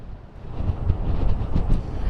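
Strong wind buffets an outdoor microphone at a wildfire news conference scene in the Coconino National Forest, a continuous loud low rumble with gusty swells and no talking.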